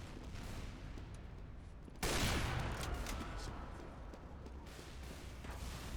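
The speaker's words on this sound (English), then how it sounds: "I hear another sniper." Sniper and gunfire in the video game Lethal Company, a sudden loud crack opening into dense sustained gunfire noise, with fainter shots before it, no talk.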